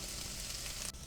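Onions frying in a pan as a steady, fairly quiet hiss and crackle of sizzling oil, lasting about a second with no voices.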